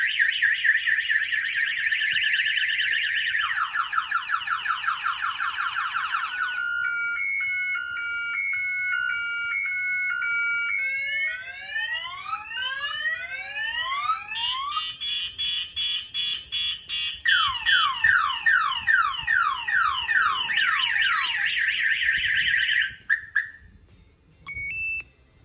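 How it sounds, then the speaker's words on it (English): A Polaris Slingshot's vehicle alarm, triggered from the key fob, blares loud and close, cycling through a series of electronic siren patterns: steady warbles, rapid chirps and sweeping tones, with no voices. "I'm gonna go ahead and set off the alarm."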